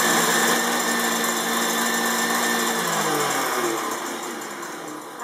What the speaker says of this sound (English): I'm going to turn the mixer back on and whisk in a tablespoon of maple syrup.